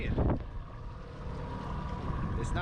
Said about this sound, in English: I do not think the camera does it justice out here right now, but it is windy.